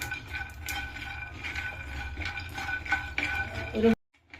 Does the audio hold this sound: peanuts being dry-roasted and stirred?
yes